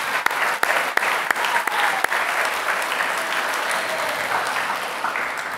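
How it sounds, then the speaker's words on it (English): High school Year 12 graduation audience applauds award recipients, a few sharp individual claps opening into sustained, full-room clapping that holds steady before easing slightly. "Can we just get one last round of applause for all our recipients?"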